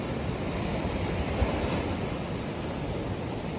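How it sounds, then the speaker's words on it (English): Sea waves roll onto the beach at Puri in Odisha, a continuous close surf roar with wind noise, no voices. "On the shores where the waves kiss the sand, with the sound of tides"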